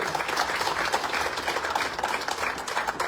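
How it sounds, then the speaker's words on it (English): Guests at a motor club award evening in Kisumu give a rally champion a full, continuous round of applause, crowded and lively throughout. "Give him a round of applause,"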